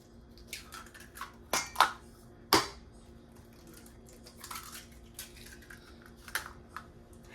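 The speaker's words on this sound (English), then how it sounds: "We're gonna go in, cracking in our eggs. I'm going in with 2 eggs." Two eggs cracked into sweet potato cornbread batter, heard as a few sharp, close cracks and taps against a bowl rim with soft wet clicks between them, in an otherwise quiet kitchen.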